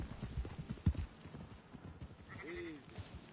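Horse hooves clip-clopping in the Red Dead Redemption video game, a quick uneven run of close hoof knocks followed by a short whinny.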